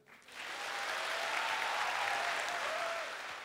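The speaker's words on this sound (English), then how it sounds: "he's usually welcomed with a big round of applause" An audience at an exchange and visiting student orientation applauds, a dense, even roar of many hands clapping that swells quickly and holds steady for several seconds, moderately distant.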